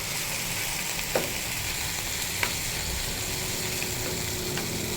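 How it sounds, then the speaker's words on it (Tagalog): Chicken sizzles and fries in a pan beside onion, tomato and garlic, a steady close crackle with a few sharp ticks and pops of stirring and no voices. "Kasi ilalagay naman natin yung ating chicken dito sa kabilang side para naman ma-fried na rin siya."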